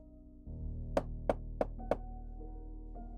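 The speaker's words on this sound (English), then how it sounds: "A knock on the door jolted me from the screen." Four sharp knocks on a door in a quick, even series, close and distinct, over a steady low background hum, followed by quiet.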